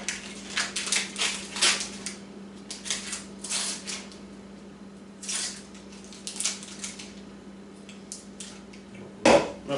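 Two full cubes of butter are dropped into a large lidded pot on medium heat for alligator etouffee, making soft clattering knocks and scrapes in bursts, with a sharper clunk near the end.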